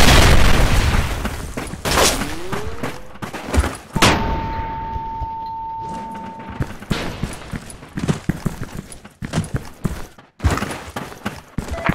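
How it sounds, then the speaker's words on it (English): A grenade explodes in the online shooter Special Force 2 during a clan war match, one heavy boom amid bursts of rapid gunfire and clattering footsteps, loud and close, followed by more scattered shots. "grenade!"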